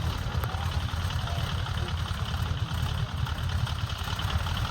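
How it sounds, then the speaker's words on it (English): Radial engine of a PT-17 biplane running just after ignition, a steady low idling rumble with a mechanical knock, heard close and continuous and with no one speaking. "We have ignition on all the cylinders."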